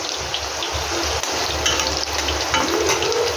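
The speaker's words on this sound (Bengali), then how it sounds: "কড়াই তেল বসিয়ে আলুটা ভেজে নিচ্ছি।" Potato pieces fry in hot oil in a wok alongside cumin seeds and whole garam masala, giving a close, steady crackling sizzle with light bubbling and no voices.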